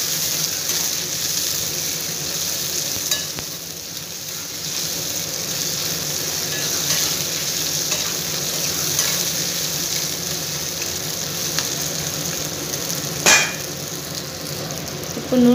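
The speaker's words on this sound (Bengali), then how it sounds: "আমি ভালো করে বাদামি কালার করে ভেজে নেব" Chopped onions fry in a little oil in a wok, a steady, close, loud sizzle that runs unbroken with a sharp clack of a utensil near the end.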